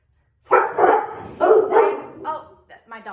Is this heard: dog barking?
yes